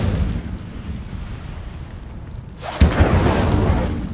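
An Incendio fire spell goes off in Hogwarts Legacy, a sudden whooshing burst of flame that erupts near the end after a quiet rumbling stretch and then roars on.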